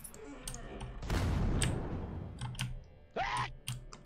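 Tank cannon fire in a Roblox Area 51 raid game: one heavy booming blast followed by a long rumbling decay, with keyboard clicks scattered around it and a voice speaking near the end.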